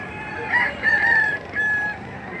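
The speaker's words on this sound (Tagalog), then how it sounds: "Ang manok." A Boston Roundhead rooster crows in a few drawn-out, wavering calls, fairly close, over a steady outdoor background hum at a livestock auction in Padre Garcia, Batangas.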